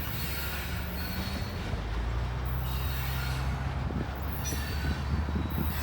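A freight train rolls past at a distance with a steady rumble and the squeal of metal wheels on rails, no voices.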